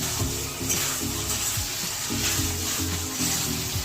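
Ghee sizzles in a pan on the stove with a constant crackling hiss, close and even, under some faint clinks and stirring.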